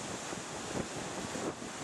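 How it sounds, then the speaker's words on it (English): Sea waves roll in at the foot of a rocky cliff some 15 to 20 feet high at Boka Kokolishi, a steady distant surf wash mixed with wind buffeting the microphone, brief and continuous. "Nice wave action coming in here, and the cliff is pretty high up"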